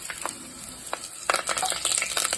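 A few fenugreek seeds dropped into hot oil for a Kerala fish curry make sharp sizzling bursts with stirring clicks, building to a dense, close crackle after a short pause.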